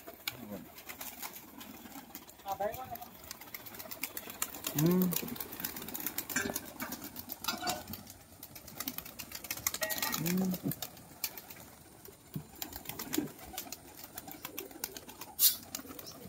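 Pigeons flocking for food at an uncle's loft of about 300 mostly white fancy pigeons, with a couple of soft coos rising from a busy, rustling backdrop while people talk nearby.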